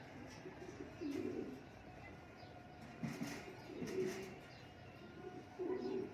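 Soft low coos from pigeons standing in a loft or coop, a few gentle phrases repeating every second or two, fairly faint against a steady hum of background noise.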